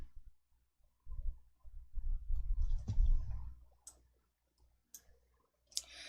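Computer mouse clicks while filling in an Excel spreadsheet dialog, a few sharp isolated clicks near the end following a stretch of low rumbling handling noise, close and fairly quiet.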